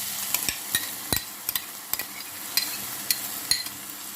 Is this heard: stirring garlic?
yes